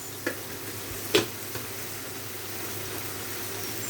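Masala spices frying in a pan, a soft continuous sizzle at low level, broken by a couple of brief utensil clicks near the start.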